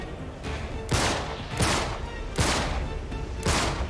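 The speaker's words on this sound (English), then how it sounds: "Is that Sully shooting?" Video game gunfire in Uncharted 3: Drake's Deception, with four loud, sharp bursts of shots at a steady rhythm over a constant background din.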